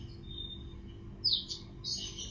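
A pair of blackthroat songbirds being paired for breeding in a cage, the male in full song, gives brief, bright chirps in the second half, close and clear over a low steady background hum.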